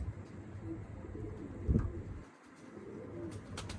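Soft, low pigeon cooing in a quiet setting, faint and somewhat distant, with a brief rustle partway through.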